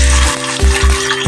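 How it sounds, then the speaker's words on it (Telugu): Dried anchovies (nettallu) dropped into hot oil in a kadai for a curry, a loud, dense, close sizzle filling the short moment with a few low thumps. "ఆయిల్ కొద్దిగా హీట్ ఎక్కాక ఇప్పుడు ముందుగా నెత్తాలు వేసుకోవాలి."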